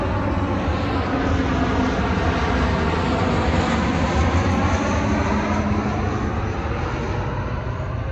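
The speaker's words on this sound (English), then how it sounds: "So you'll always see these jets flying in." Steady, loud roar of a jet airplane flying in low toward an airport across the road from an outdoor expo demo area, a continuous broadband engine rush with no talk.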